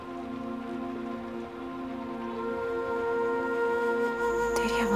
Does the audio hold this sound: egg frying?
no